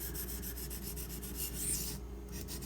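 A D2 steel blade from a Benchmade Mini Griptilian knife is drawn across hard sharpening stones, giving a steady, close scraping rasp with even strokes that continue throughout.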